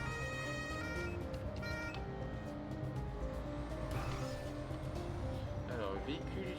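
Police car driving the wrong way down a road in Germany, its engine and tire noise rising and falling as other traffic rushes past, heard faintly beneath ongoing talk inside the car.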